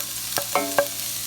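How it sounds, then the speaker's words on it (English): Onions and green peppers saute in olive oil in a cast iron skillet, a soft close sizzle broken by two or three quick utensil clinks against the pan, with no talking. "I'm going to saute my onions and green peppers first"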